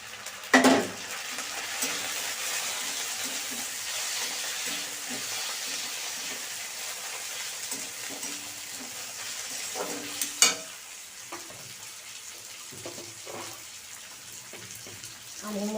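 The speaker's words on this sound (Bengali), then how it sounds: "আমি হালকা হালকা করে একটু রসুন আর আদা আর লঙ্কাটাকে একটু ভেজে নেব" Garlic, ginger and green chili sizzle in hot oil in a pan with a steady crackling hiss. There are a couple of sharp clatters as tomato goes in and the mixture is stirred, with brief faint speech between.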